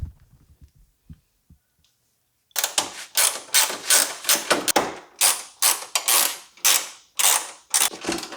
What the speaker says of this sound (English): It's a pass-through ratchet. It works just fine.